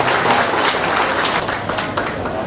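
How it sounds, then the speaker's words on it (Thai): Audience applause at the opening ceremony of a traditional Thai boat race in Nan province, a dense, loud, steady wash of many hands clapping together outdoors. "ขอให้พวกเราในที่นี้ปรบมือต้อนรับ"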